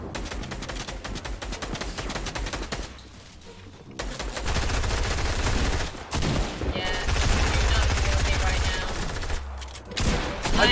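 Rapid bursts of pistol gunfire in Fortnite, mixed with game sounds and a loud, dense stretch of repeated shots, close and prominent, with people talking over parts of it.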